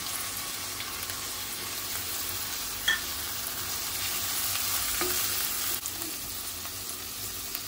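Capsicum and corn sizzle steadily while being stir-fried in a pan for vegetable vermicelli upma, a continuous close frying hiss with a few light stirring scrapes and no talk.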